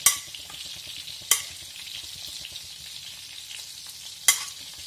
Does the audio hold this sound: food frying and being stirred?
yes